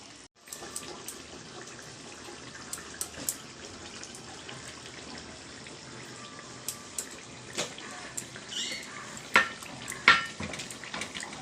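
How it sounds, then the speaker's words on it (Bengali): Water poured into spices frying for a katla fish curry, a steady sizzling hiss throughout with scattered crackles and clinks of utensils on the pan, close and fairly loud. "মশলা কষানো হয়ে গেল, এবার আমি জল দিয়ে দেবো।"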